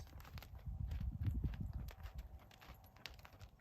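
Horse hooves clip-clop steadily at a walk during a riding lesson, a close, rhythmic patter of footfalls with faint arena noise and no talk over it.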